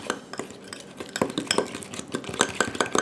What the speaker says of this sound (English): Just gonna mix this really good.